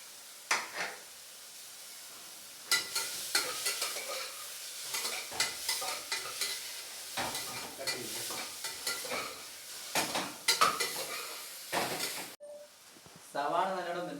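Crushed ginger and shallots fry and sizzle in a pressure cooker as a spoon stirs them, with repeated scraping and clattering strokes. Near the end comes a brief voice.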